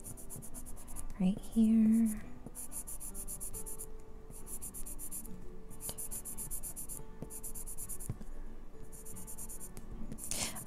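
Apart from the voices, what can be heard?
colored pencil smoothing smoke blue on paper, Holbein pencils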